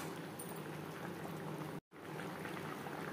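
Katla fish curry simmering in its gravy in a pan, a steady soft bubbling and sizzling that carries on evenly, broken once by a split-second gap, with no voices.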